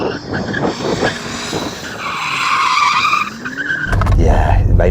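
A BMW, one of an M8, M5 CS or M5 Competition lined up for a drag race, skids as it warms up its tyres, giving a loud sustained tyre squeal and engine roar that swells toward the end, with people talking nearby.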